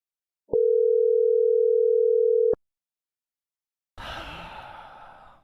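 A telephone line gives a single steady busy tone for about two seconds after a call hangs up, followed by silence and then a soft breathy sigh.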